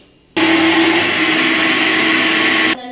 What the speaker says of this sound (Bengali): এবার আমি এটা করবো ব্লেন্ড, আমি না মিক্সি মেশিন করবে।